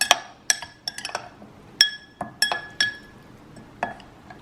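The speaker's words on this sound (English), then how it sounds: "you're going to want to stir it all up to incorporate it" A utensil stirs a tomato dish in a glass bowl, giving irregular sharp clinks and chimes close by, spaced unevenly with quiet gaps between them.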